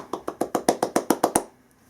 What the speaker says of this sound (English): you are going to clap fast.